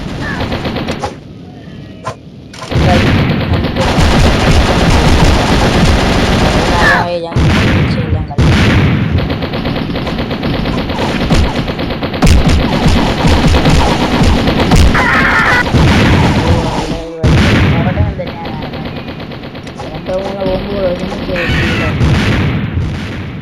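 Mini Militia video game combat: near-continuous loud machine-gun bursts and booming bomb explosions fill the stretch, with short gaps between barrages.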